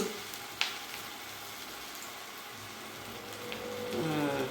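Urad dal vada fry in hot oil, giving a continuous soft crackling sizzle close by, with a couple of brief clinks and a rise in bubbling toward the end.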